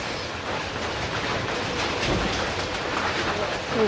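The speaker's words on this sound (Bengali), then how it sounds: "এখন হচ্ছে দুপুরবেলা যে এখানে বৃষ্টি নামতেছে" Steady rain pours down, a dense, even hiss that fills the whole clip without a break.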